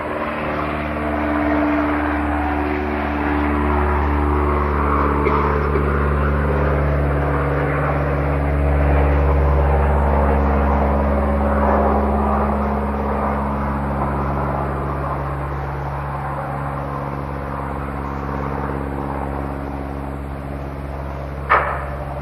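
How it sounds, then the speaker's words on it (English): A propeller aircraft towing a glider drones steadily overhead for the whole stretch, a low sustained engine hum that swells slightly in the middle and fades a little. "Now, that aeroplane is going overhead, taking along a glider."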